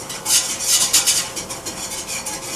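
A spoon scrapes and stirs a flour roux around a pot in steady, repeated strokes, a close, gritty rasping with no voices.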